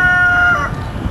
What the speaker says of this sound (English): There's chickens, you know, I can't help it.